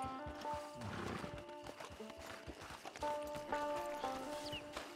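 Horse hooves clopping and a horse neighing in Red Dead Redemption 2 on PS5, with rhythmic hoofbeats under a steady musical backdrop and a whinny rising near the end.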